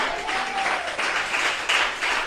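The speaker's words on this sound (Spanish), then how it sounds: "¿Cuántos aplauden la gloria de Dios?" Church congregation applauding, a dense wash of many hands clapping at moderate loudness with a faint voice briefly audible over the start.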